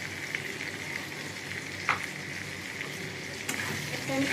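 Turmeric and chili powder being sautéed in a pan for a fish curry with potato and eggplant, giving a close, steady sizzle with a few sharp stirring clicks, moderately loud.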